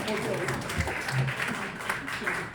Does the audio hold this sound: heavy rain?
no